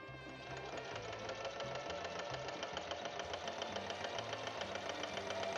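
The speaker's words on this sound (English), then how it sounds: "In this case, we're just stitching straight down the row" A sewing machine stitches a straight row on a quilt, running steadily with a fast, even mechanical chatter throughout.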